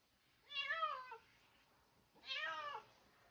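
A cat meowing twice during a bath, two clear drawn-out plaintive meows about a second apart, close and alone in a quiet room.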